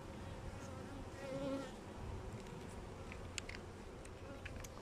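Honeybees buzz at a beehive during smoking of the colony, a faint, continuous hum with no talk over it.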